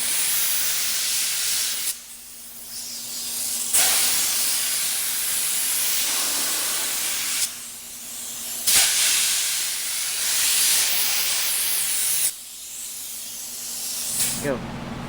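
A water spray hisses loudly as it rinses car tail lights, coming in three long bursts with short pauses between them and a little noise in the gaps.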